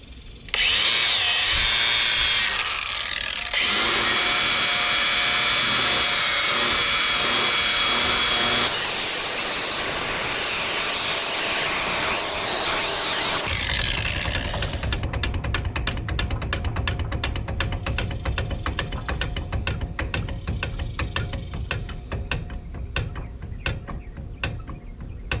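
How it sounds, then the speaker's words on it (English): Power tool resurfacing the brake drum of a Buick Skylark, a loud continuous close drill whine that shifts pitch, turns into a harsher grinding scrape partway through, and runs for the whole stretch without talk. "Poor man's brake drum resurfacing."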